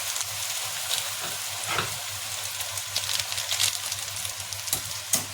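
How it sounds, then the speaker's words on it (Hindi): Okra and onions fry over high heat in a pan, a close, crackling sizzle with scattered pops and brief bursts, some from stirring, over a low steady hum and with no talking. "अब तेज आंच पे इनको भून लेंगे"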